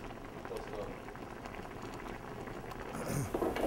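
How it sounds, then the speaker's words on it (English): Rabbit sauce simmers slowly on a stove with a soft, continuous bubbling that stays low and fairly faint, plus a few louder bubbles near the end. "Leave it go for about 15-20 minutes on a slow simmer."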